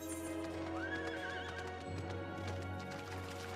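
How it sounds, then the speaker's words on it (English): A horse mount in the video game Final Fantasy XIV whinnies once, loud and close, over a steady rhythmic clip-clop of hooves and game music, with no talking. "Aboard the horse."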